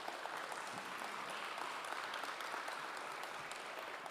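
Steady, dense audience applause fills a debate hall on whether the New Testament is antisemitic, many hands clapping at an even level for the whole stretch with no voices over it.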